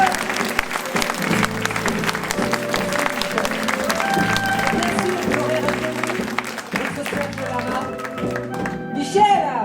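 An audience at a tribute concert claps loudly and continuously for several seconds, a dense wash of applause that swells and stays full throughout.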